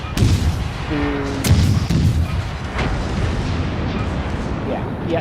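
Naval cannons boom in a video game sea battle, with several heavy blasts and sharp cracks spread over a few seconds and a dense rumble of battle between them.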